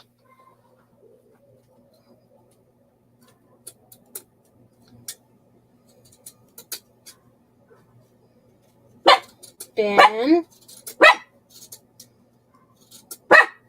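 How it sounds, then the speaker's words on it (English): A dog lets out a short burst of loud, close barks near the end, after a mostly quiet stretch with scattered small knocks and clicks. "It's a dog."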